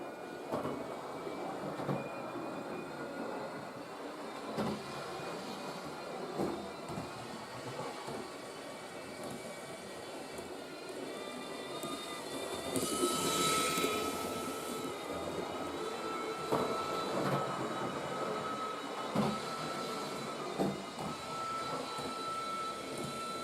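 A model railway locomotive runs steadily with a thin mechanical whine and rumble, its tone shifting as it moves, with no talking.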